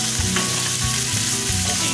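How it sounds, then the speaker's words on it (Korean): Meat stir-fried in a hot pan gives a steady, loud sizzle, with a few soft thumps from a utensil turning the pieces at an even pace. "고기를 여기서 거의 다 익혀준다고 생각하시면 되거든요."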